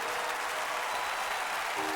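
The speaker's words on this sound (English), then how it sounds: "the pair left the stage, to the sound of thundering applause" Loud, steady applause from a crowd in the video game Octopath Traveler II fills the whole stretch without pause.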